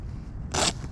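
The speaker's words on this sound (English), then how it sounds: "Okay, open the zipper." A sandbag's zipper rasps open in one short, bright burst about halfway through, close and fairly loud over quiet outdoor park background.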